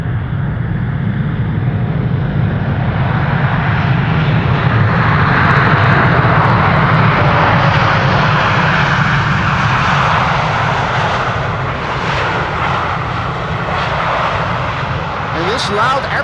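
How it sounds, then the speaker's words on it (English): A loud American Airlines jet airliner passes close overhead near an airport, giving a sustained, heavy engine roar that stays strong throughout. "This loud airplane is American."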